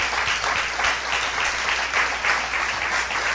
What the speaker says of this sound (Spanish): Déle un fuerte aplauso al Señor